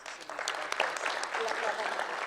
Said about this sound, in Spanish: permítanme que juntos aportemos nuestro reconocimiento con diferentes aplausos a cada uno de nuestros panelistas